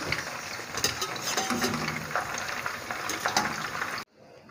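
Chicken 65 pieces fry in oil in a home kitchen, a dense close sizzle with crackles and light utensil clinks that stops abruptly just before the end.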